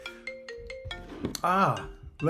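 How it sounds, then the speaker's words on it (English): A mobile phone rings nearby during a recording, a short series of bright, evenly spaced electronic melody notes, followed by a person talking loudly. "I forgot to turn off my phone during my recording"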